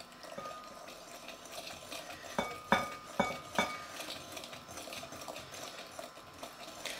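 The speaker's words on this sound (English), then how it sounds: "I'm not going to use my electric whisk for the moment, just using this little hand whisk." A small hand whisk beats custard mixture in a bowl, a brisk run of several sharp metallic clinks and taps against the bowl standing out over a faint, steady kitchen background.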